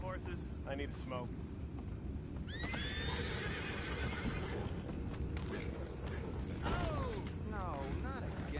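Horses neigh and whinny several times in Red Dead Redemption 2, bright rising-and-falling calls over a dense low rumble of hooves and creaking, with faint voices nearby.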